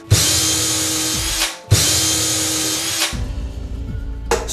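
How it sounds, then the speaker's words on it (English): A power drill whirs at high speed in two long runs, winding down between them, followed by a lower grinding burst as it bites into material. "Pre-drill each hole."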